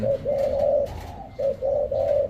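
Repeated low, hollow cooing from a spotted dove, in short phrases with brief pauses between, fairly close and clear over faint background noise.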